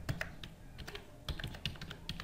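Quiet, close typing on a computer keyboard, a loose run of light key clicks with irregular spacing and no voices.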